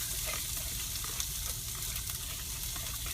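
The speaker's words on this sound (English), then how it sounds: "Those onions get cooked and the peppers get cooked. So they all got olive oil on them." Onions and peppers coated in olive oil sizzle and fry steadily in a pan while cooking in a truck, a loud continuous crackle with faint stirring scrapes.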